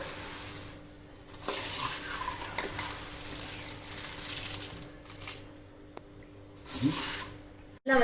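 Masala puffed rice being stirred and fried in a pan, Pollachi style: dry rattling scrapes and light clinks of the spoon against metal in short bursts, with a faint sizzle between strokes.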